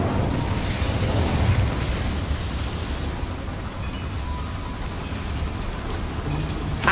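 Incendio fire spell cast in the Hogwarts Legacy video game, a loud sustained roaring, crackling burst of flame with a heavy low rumble that stays dense throughout, no voices over it.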